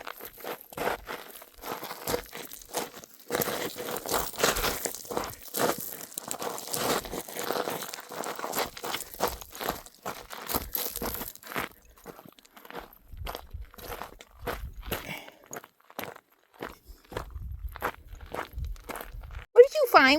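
An animal crunches and chews on something outdoors in a desert wash, steady close crunching and crinkling for many seconds, with footsteps on gravel and occasional background noise.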